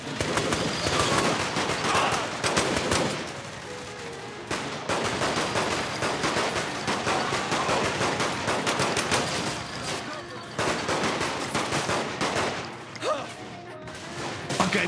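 Rapid gunfire and bursts from a brawl in the video game Saints Row: The Third, dense and continuous with short breaks, with a voice speaking briefly over the shooting.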